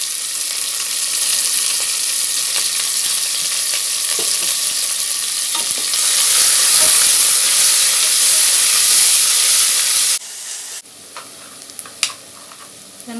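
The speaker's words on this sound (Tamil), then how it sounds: "வெங்காயம் நல்லா வதங்கிடுச்சு" Sliced onions with salt sauté in a pan for a Tamil idli chicken kuzhambu, giving a loud steady sizzle with stirring scrapes that swells midway, then drops to a quieter crackle with a few utensil taps.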